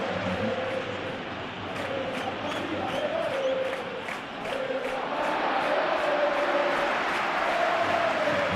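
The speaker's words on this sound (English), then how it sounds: "the start cheer for Militao" Football stadium crowd cheering at a Real Madrid vs Rayo Vallecano LaLiga match, a continuous loud roar with rhythmic clapping pulses and rising chant-like swells, with a commentator speaking over it.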